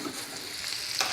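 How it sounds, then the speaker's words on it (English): Shallots frying in a pan, a steady bright sizzle with soft crackles, close and continuous, with a brief stirring scrape near the end. "I'm going to let them fry for not very long."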